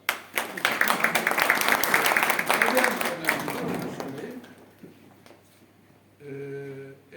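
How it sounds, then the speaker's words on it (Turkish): Audience applause at a painting exhibition opening, a dense burst of clapping from a gathered crowd that swells and then thins out, with talk carrying on underneath and afterward. "Burada alkış."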